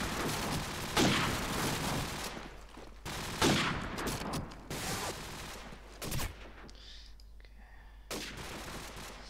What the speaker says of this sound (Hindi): ओ नाइस शॉट भाई डीएक्स।